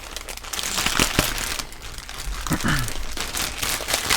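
Crinkling and tearing of packaging by hand, with irregular rustles and rips close up, mixed with a few brief bumps.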